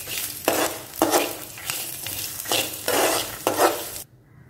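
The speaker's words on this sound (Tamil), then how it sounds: "இதையும் போட்டு லைட்டாக ஒரு வறுத்து எடுத்துட்டு நம்ம எடுத்துட்டு போகிறோம்" Grated coconut is lightly roasted in a pan while a spoon stirs it for Chettinad potato curry, producing repeated scraping strokes over a faint sizzle before cutting off abruptly near the end.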